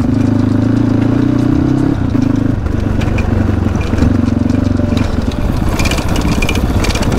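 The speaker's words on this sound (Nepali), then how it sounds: "चेनबाट अलिअलि आवाज आइरहेको छ, चेन फेर्नु पनि छ" A dirt bike with a worn drive chain idles and revs nearby, its steady mid-pitched engine drone joined by a faint rattle. The tone shifts in the second half as the throttle changes.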